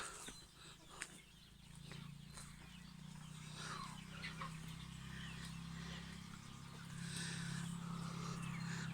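Young chickens clucking and murmuring in an organic garden yard, a steady low cackle from several birds with occasional louder calls, no talking.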